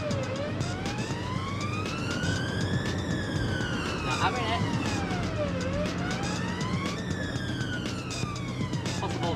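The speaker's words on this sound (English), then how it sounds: "As the sirens fire up, the team are now in full pursuit of the driver" A police car siren wails in rising and falling sweeps throughout a pursuit of a driver refusing to stop on the A63, loud and continuous over engine and road rumble.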